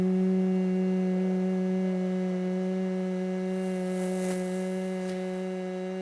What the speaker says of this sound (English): Exhale slowly with the humming sound of a bee.